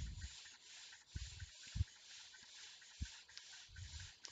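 A homemade rotating tumbler built from an old printer and scrap turns with polishing media inside, giving faint soft rubbing and sliding with occasional low thumps and tumbling knocks.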